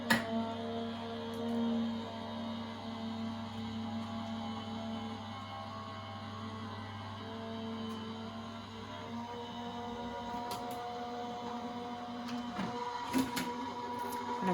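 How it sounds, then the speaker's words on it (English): A die cutting machine feeds a plate through for a Christmas card project, giving a steady mechanical hum with a low drone and a few brief clicks near the end, moderately close and without talk. "run that through the die cutting machine again"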